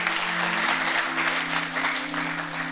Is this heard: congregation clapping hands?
yes